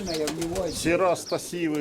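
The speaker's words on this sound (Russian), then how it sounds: "У Вовчука голуби здоровые." Large, robust pigeons kept for breeding in a loft, cooing in low, throaty bursts with a brief stir of flapping wings, someone talking close by.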